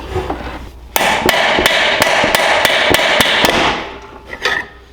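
Steady hammer blows ring out against the flywheel of a Harbor Freight Predator 459cc engine during a teardown, about ten sharp, evenly spaced metallic strikes in quick succession, close and loud, with a few lighter taps after.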